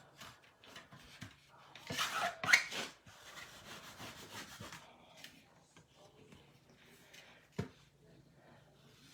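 A Cricut squeegee is smoothed over fabric on a wooden tray, making faint, close rubbing and scraping strokes that bunch together in the middle, with quiet room sounds around them.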